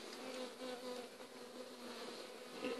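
Honey bees buzz steadily inside a hive, a soft, dense, continuous drone of many wings with no voices.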